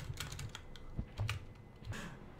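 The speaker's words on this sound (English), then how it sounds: "He's typing." Rapid clicking of keys on a computer keyboard, close and fairly loud, in short irregular bursts with no talking over it.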